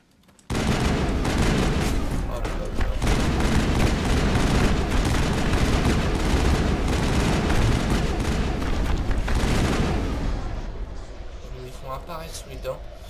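Sustained assault rifle fire and explosive combat noise from the video game Mass Effect, loud and continuous for most of the span before easing off near the end, with speech mixed in.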